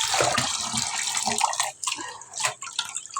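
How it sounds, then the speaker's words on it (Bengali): Whole fish being washed in water, with continuous splashing and dripping as the fish are rinsed and handled, close by and fairly loud with no voices. "সব মাছ ধুয়ে নিতে হবে।"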